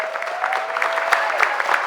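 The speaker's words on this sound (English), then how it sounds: "So give him a round of applause" An audience at a Philadelphia City Council stated meeting claps in a steady round of applause, dense and moderately loud, with a faint voice underneath.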